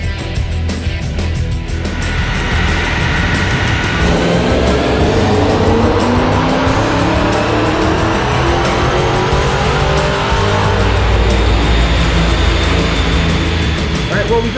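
A 2010 Dodge Challenger with a 5.7 L Hemi and Magnuson supercharger roars on a dyno, its engine note climbing in a long, loud, continuous pull through the revs after a brief lower idle.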